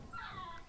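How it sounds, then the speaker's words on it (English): Puppies whimper in a thin, wavering whine lasting under a second, quiet and somewhat distant, heard against a low background with no talk. "Puppies. It's gotta be."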